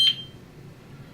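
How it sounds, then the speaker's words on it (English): A single short, clear electronic beep sounds right at the start from a wireless translator and Simon XT alarm panel as a Honeywell door-window sensor is learned in, followed by quiet room background. "You'll hear a beep from the translator and a beep from the Simon XT."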